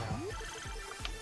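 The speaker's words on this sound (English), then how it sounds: "I think if you heard something there, that was my phone going off" A mobile phone ringtone plays faintly in short tonal bursts, with a voice murmuring under it.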